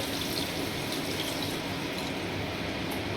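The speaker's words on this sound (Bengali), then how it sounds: "এবার আমি দিয়ে দেব জল এই যে মিক্সি জার ধুয়ে জলটা দেব" Water used to rinse out a mixer grinder jar is poured into a cooking pot of fish curry, making a steady, close, full splashing stream that runs without a break.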